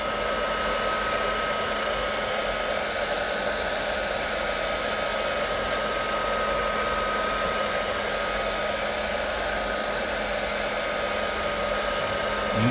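A heat gun blows steadily and loudly at close range, warming a truck door emblem to soften its glue, a constant rushing whir with no break.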